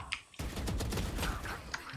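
Rapid bursts of gunfire from the video game Valorant, a quick volley of sharp close shots with clicking mechanical ticks, loud and dense for most of the moment with no talking.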